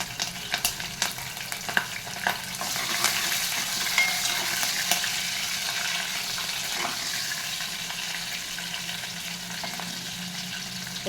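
Green chillies sizzling in hot oil with cumin, mustard seeds and curry leaves for a tempering, a steady hiss with scattered pops and crackles that grows fuller after a few seconds, alone without talk.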